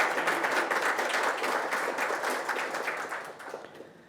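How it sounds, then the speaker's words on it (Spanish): Warm applause welcomes a panelist at a banking seminar on socio-environmental and climate risk, a dense burst of clapping that holds steady and then gradually tapers off over four seconds. "La recibimos con un caluroso aplauso."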